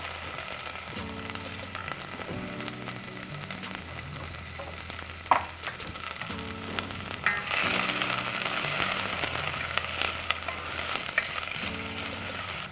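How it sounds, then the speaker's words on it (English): Chopped onion sizzling and frying in hot oil in a pan for pilau, a continuous dense crackle with occasional stirring scrapes, loud and close with no talking. "Get our oil nice and hot. And then we're gonna add in all of our onion, just like so."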